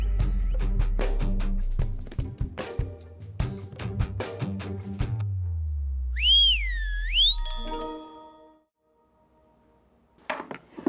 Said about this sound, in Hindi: सीटी मैंने नहीं मारी, इस तोते ने मारी है।